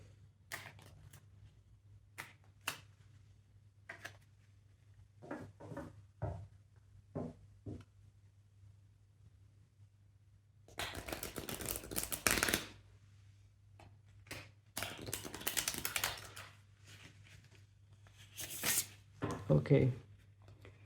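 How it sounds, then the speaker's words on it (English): Bursts of riffling tarot cards being shuffled, several short flurries separated by pauses, close by, over a low steady hum. "Just going to shuffle the deck."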